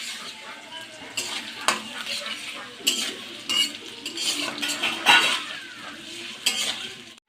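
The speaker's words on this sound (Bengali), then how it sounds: "এখন পেঁয়াজটা ভেজে নেব।" Onions frying in a pan for a vegetable chicken curry, soft sizzle punctuated by repeated spatula scrapes and metallic clinks against the pan, close and moderately loud.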